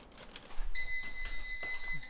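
A high, steady electronic beep tone from an air fryer rings out continuously under faint room noise and some handling sounds.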